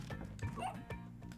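A dog barking in Spelunky 2, the damsel dog character, giving a few short yips and whimpers close by while a voice talks over it.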